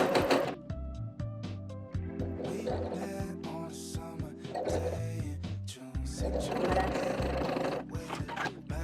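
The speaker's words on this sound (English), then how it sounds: "Use this foot thing, whatever the name is, with the zigzag stitch." A sewing machine runs a zigzag stitch to attach elastic to beginner pajama pants, its motor whirring in steady bursts with short pauses between runs.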